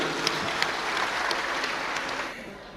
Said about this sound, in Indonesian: Saya tepuk tangan untuk Mas Nandu.